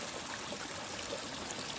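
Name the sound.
mountain stream flowing on the Appalachian Trail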